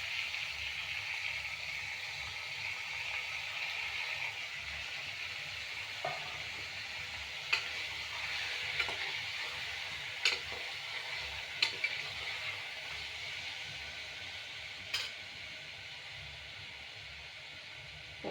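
Onion and tomato fry in a pan for an okra and egg curry, giving a soft, steady hiss with a few scattered clicks and scrapes from stirring.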